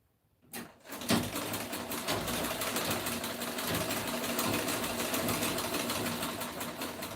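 A sewing machine runs a stitch along smooth fabric for a dress, starting after a brief pause and then holding a close, loud, rapid mechanical rattle that stays steady until the end.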